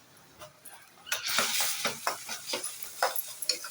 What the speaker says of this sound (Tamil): இதுவும் நல்லா பச்சை வாசனை போகிற வரைக்கும் வதக்கிக்கலாம்.